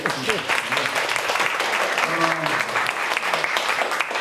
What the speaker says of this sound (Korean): 제가 다시 한번 박수 드립니다.